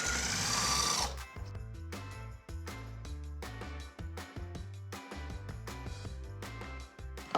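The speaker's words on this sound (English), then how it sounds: "I'm gonna let the food processor do the rest." A food processor blends a goat cheese herb spread with lemon and olive oil, its motor whirring in repeated short pulses broken by brief pauses, close up and with no talk.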